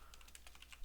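Fingers tapping a computer keyboard while entering a search query, a quick, quiet run of light clicking keystrokes in an even rhythm, close by and alone.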